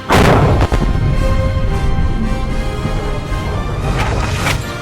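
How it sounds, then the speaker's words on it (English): Rapid loud gunfire from police firearms training on a range, several close, heavy booming shots in quick succession that ring and echo throughout. "Draw, fire 2 rounds, shift right, cover your new target."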